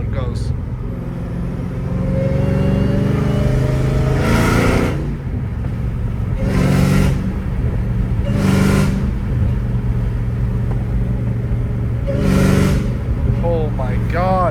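Straight-piped Dodge Hellcat Redeye exhaust roaring loud and close, with repeated hard revs surging in bursts every couple of seconds over a constant deep rumble, voices talking throughout.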